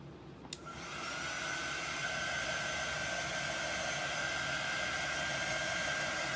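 A hair dryer blows steadily on freshly applied chalk paste paint, switching on after a brief click and then holding a loud, continuous whooshing hum to the end.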